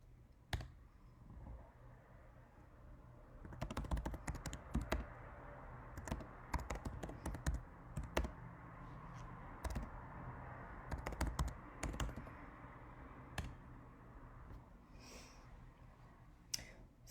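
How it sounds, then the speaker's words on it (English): Someone types on a computer keyboard in a quiet room, irregular bursts of soft key clicks separated by pauses, close but faint. "I'm going to start typing just some of the things I kind of wanted to go over today."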